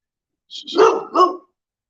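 A dog barks on a street walk, a close, loud burst of two or three gruff barks in quick succession, then silence.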